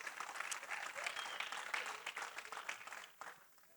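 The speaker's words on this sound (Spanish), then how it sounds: "démenle otro aplauso a los pastores" A church congregation applauds its pastors, a dense, even wash of many hands clapping that holds steady and then tapers off toward the end, fairly quiet overall.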